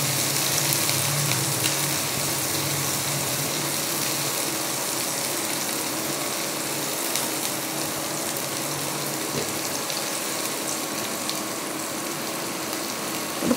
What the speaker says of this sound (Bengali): ভালো করে একটু ভেজে নেব, খুব বেশি না, হালকা করে ভাজবো।